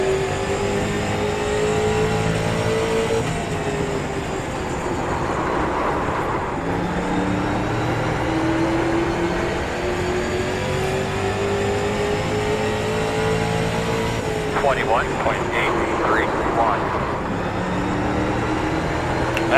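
Street stock race car engine in iRacing at Martinsville, droning steadily and loud throughout, its pitch sweeping up and down as it laps, with a brief higher revving burst late on.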